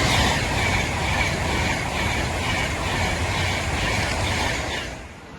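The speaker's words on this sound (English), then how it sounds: "Right, here comes Manchester Piccadilly London Euston Avanti West Coast," An Avanti West Coast Class 390 Pendolino on the Trent Valley Line, running Manchester Piccadilly to London Euston, rushes past close by with a loud, sustained roar and faint rhythmic wheel clatter, fading away at the end.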